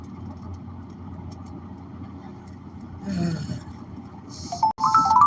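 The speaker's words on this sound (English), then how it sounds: "So I'm just driving right now." A car engine hums low and steady from inside the moving vehicle, with a brief louder rumble and some faint clicks near the end, and no one speaking.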